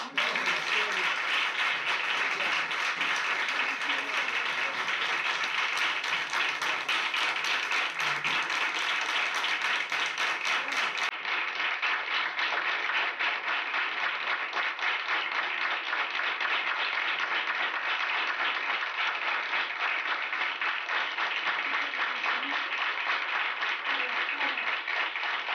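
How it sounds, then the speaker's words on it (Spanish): Sustained audience applause at a theater tribute, a steady, dense wash of many hands clapping that holds at an even volume for a long stretch without pause. "Yo quiero un gran aplauso."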